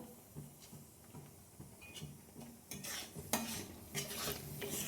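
Rice flour being stirred into a soft dough for palm-fruit puli pitha, heard as soft scraping and occasional clinks of a spoon against a bowl, close and fairly quiet, with brighter clatter toward the end.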